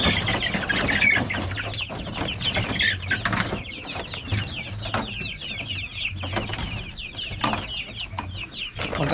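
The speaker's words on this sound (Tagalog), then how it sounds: "alam kong gutom na tong mga alaga kong manok eh" A flock of chickens clucking and squawking busily up close while being fed, continuous overlapping calls with a low steady hum underneath.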